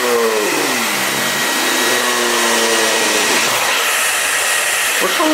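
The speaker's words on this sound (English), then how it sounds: "How come this is a 2-speed hair dryer? Oh, there it is. There's 1 speed." A two-speed hair dryer blows at close range onto acrylic paint for a pour painting, roaring steadily with a motor pitch that dips and rises as the setting changes and then holds on a constant rush.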